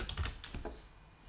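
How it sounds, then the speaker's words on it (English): A password typed on a computer keyboard, a short burst of several quick close key clicks followed by quiet. "I'm typing something wrong."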